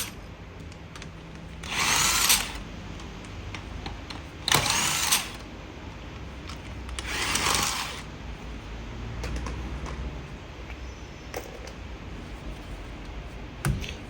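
A power tool fitted with a polymer-coated socket undoing the lug nuts on a 2018 Porsche Macan alloy wheel, heard as three short loud whirring bursts separated by quieter workshop background.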